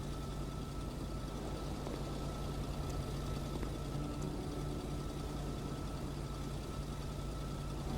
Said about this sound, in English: That was my car making the noise.